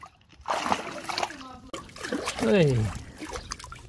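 Water splashes and sloshes as a small child plays at a grandparents' home, the splashing heard close and intermittently under a nearby adult's voice.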